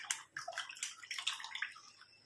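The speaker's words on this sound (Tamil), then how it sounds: "இப்போ நம்ம இந்த இரும்பு கடாயை நல்லா வாஷ் பண்ணிக்கலாம். தண்ணி ஊற்றி அலம்பிட்டு" Water poured over and splashed around an iron kadai pan as it is rinsed, coming as a series of close, bright splashing bursts with no voices.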